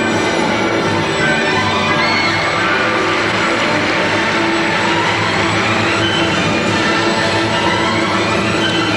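Arena crowd at the 1989 U.S. Figure Skating Championships ladies' free skate, a loud sustained roar of cheering and applause filling the space throughout.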